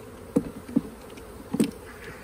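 Honeybees buzzing around a nucleus hive during an inspection, a few individual bees droning close by in brief passes over a quiet hum.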